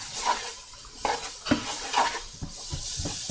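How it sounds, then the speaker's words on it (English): Soup vegetables stirred in a pot, with a spoon scraping and clinking at a steady rhythm over a soft sizzle, close and fairly quiet. "So you just keep stirring them around."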